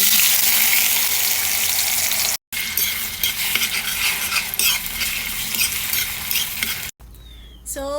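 Egg mixed with tomato frying loudly in a pan, a dense continuous sizzle with stirring scrapes, briefly cut twice, ending with a short different burst.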